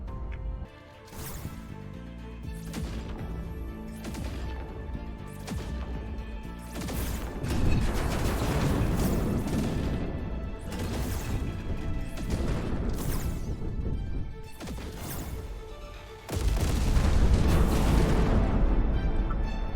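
Alien ships firing on a remote space station in the strategy game Terra Invicta, with loud repeated booming weapon impacts and crashing blasts that swell in dense waves and intensify near the end.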